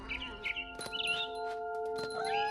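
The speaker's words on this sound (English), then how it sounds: "Then I heard chirping outside my window. It was a barn swallow going back to her nest." A barn swallow chirps outside a window in the game What Remains of Edith Finch, giving a few quick, bright tweets over a soft sustained musical tone.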